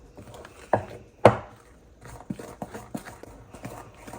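Mango cake batter with desiccated coconut being mixed in a bowl, giving a few sharp knocks of a spoon against the bowl followed by quieter, irregular taps and scrapes, close by with no talk.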